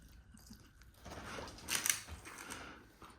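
Someone chews a bite of food up close, with moist crunching that swells briefly in the middle of a quiet room.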